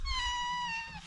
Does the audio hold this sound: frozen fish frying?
no